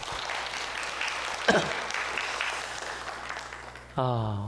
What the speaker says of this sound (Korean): 우리 여성교회 너무 감사하다고 박수 한번.